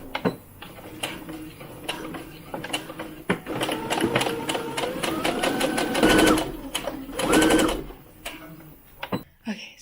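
Sewing machine stitching all the way around the edge of a small doll coat, a close, loud mechanical whir with rapid needle ticking in uneven bursts and short pauses.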